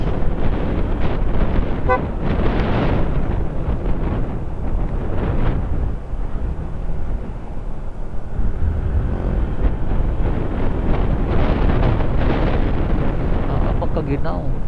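Strong cold wind buffets the microphone in loud, roaring gusts, continuous and close, with a voice faintly audible beneath it, outdoors in Kabankalan, Negros Occidental.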